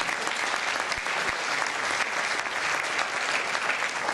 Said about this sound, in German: ich kriege einen extra Applaus